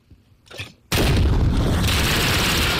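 A grenade detonates in the Modern Warfare shooter, a sudden loud blast that swells into a sustained roaring rumble after a brief faint lead-in.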